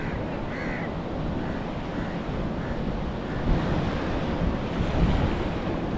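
Steady roar of sea waves washing in continuously on a rising tide in the rain, with wind buffeting the microphone and the surf swelling a little louder toward the end.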